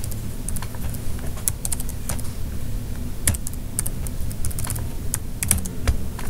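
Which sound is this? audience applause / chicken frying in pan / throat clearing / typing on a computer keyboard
typing on a computer keyboard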